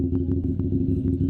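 A CFMOTO SR motorcycle engine running loudly close by, a dense steady rumble with a few faint clicks on top and no talking.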